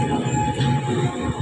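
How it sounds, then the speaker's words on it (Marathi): Train pulling out of Vijayawada station, a low continuous rolling rumble with faint rail clatter, steady and close, no talking. "ट्रेन निघाली आता"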